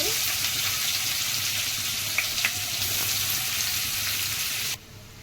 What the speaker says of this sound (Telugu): ఒక స్పూన్ నెయ్యి వేసుకుందాం సన్నగా దాని ఉల్లిపాయ మొక్కలు ఫ్రై చేసుకుందాం